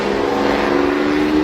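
A race car engine drones with a steady, loud, buzzing tone, held close and constant throughout the short stretch without any voices.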